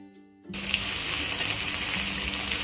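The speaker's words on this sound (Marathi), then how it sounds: "कढईमध्ये दोन पळी तेल टाकायचे तेल गरम झाले की मोहरी जिरं कढीपत्ता व कांदा टाकायचा कांदा छान परतून घ्यायचा" Onion, mustard seeds, cumin and curry leaves hit hot oil in a kadhai and start frying with a sudden loud, steady sizzle after a brief quiet start, continuing close and unbroken.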